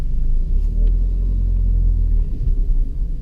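A Citroen C4 Cactus diesel pulls away under throttle with its automated clutch engaging. A heavy, close, low engine rumble dominates, steady at first, then pulsing and wavering as the car moves off, with no talk.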